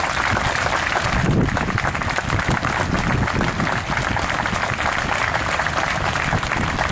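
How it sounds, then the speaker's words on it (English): A crowd at a Memorial Day parade in Fond du Lac applauds military members, producing dense, continuous clapping and cheering that holds steady and loud throughout. "Let's give them a big round of applause."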